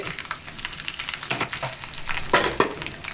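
Cumin and mustard seeds crackle in hot oil as a sambar tempering, making an uneven close sizzle with sharp pops and spatters, loudest near the end.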